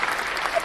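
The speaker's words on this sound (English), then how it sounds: "Round of applause for him." A short burst of crowd applause honoring a new Disney chief, dense and steady clapping lasting under a second.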